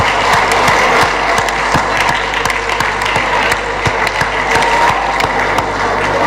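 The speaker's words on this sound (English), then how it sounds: "And let us also clap for our party, the All Progressive." Audience applause for the All Progressive party at a live-streamed gathering, a dense, steady clatter of many hands that holds at full loudness throughout with no pause.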